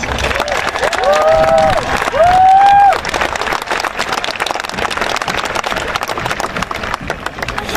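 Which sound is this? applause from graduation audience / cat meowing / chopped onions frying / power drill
applause from graduation audience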